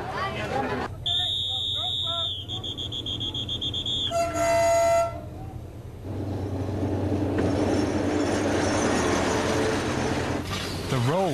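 Passenger train on the Madagascar line between the highlands and the eastern coast, sounding several horn toots before running on with a steady rumbling roll, while a voice narrates over it.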